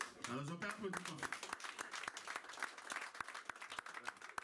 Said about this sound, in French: Alors je peux applaudir Pamphile.